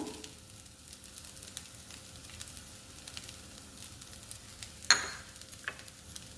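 Rice for egg rice fries quietly in a pan, a soft, even sizzle with light stirring scrapes and one sharp utensil clank near the end, heard close with no talking.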